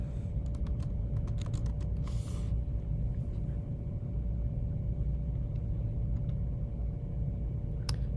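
Someone types a name on a computer keyboard: a quick burst of light, close key clicks early on, then scattered taps later, over a steady low hum.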